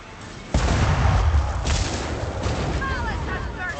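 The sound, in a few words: cannon fire in the video game Warhammer: Vermintide 2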